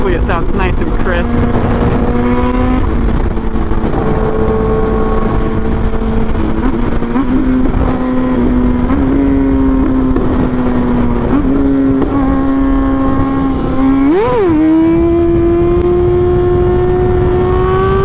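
A Kawasaki ZX6R motorcycle cruising on the freeway gives off a steady, loud harmonic engine drone that rises and dips with throttle and gear changes, with a brief sharp rev swell near the end, all under constant wind rush.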